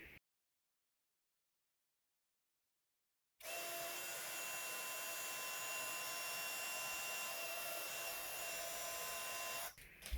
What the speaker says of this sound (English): I'm going to heat emboss them with black embossing powder